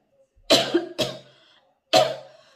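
Three close, loud coughs from a woman: two in quick succession, then a third after a short pause, with no talk around them.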